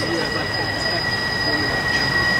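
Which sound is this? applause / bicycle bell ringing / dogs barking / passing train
passing train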